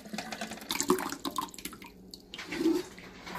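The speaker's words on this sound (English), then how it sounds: "add just a little bit more water" Water pouring and splashing into a container with ice for a summer party drink, irregular trickles and splashes, fairly quiet and close with no voices.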